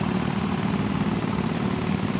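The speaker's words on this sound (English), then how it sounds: "We got Tom Schrick from Valparaiso, Indiana with a 1966 David Bradley Super 600." A 1966 David Bradley Super 600, the last tractor the maker built, idling steadily in a farm show tractor parade, a continuous low engine drone with no speech.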